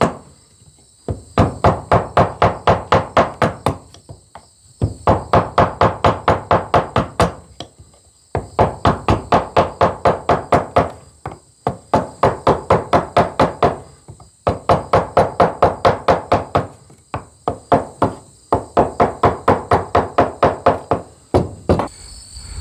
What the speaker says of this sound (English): by using a force amplifier like a mallet, you can really, gives you precise control